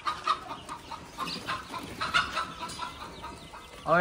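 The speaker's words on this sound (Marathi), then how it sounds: "इकडे आहेत कोंबड्या वगैरे." Chickens cluck on a goat farm, a steady run of short clucks and calls at moderate distance, with a louder burst of calls right at the end; no talking.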